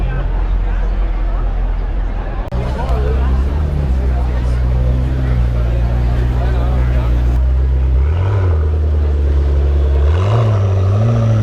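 Sports cars at a night festival in Velden on the Wörthersee produce a loud, continuous low engine drone that rises in pitch near the end. A steady crowd murmur runs underneath, and people talk over it.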